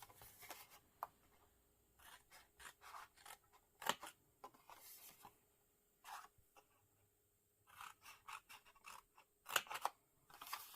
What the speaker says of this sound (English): So I'm cutting up on the score line.